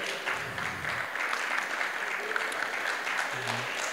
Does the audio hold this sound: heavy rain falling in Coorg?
no